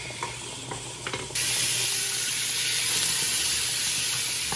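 Butter and vegetables saute in a pot for a creamy partridge soup, a faint crackle at first that jumps to a steady, loud broadband sizzle after about a second, with light scraping near the start.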